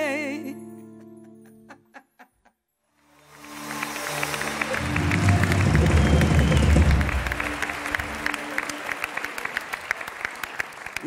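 Studio audience applause on a Turkish TV talk show, swelling after a brief musical tail and a short pause, then a full, loud burst of many hands clapping that holds steady to the end.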